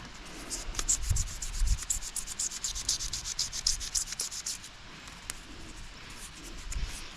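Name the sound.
1000 grit sandpaper sanding stove parts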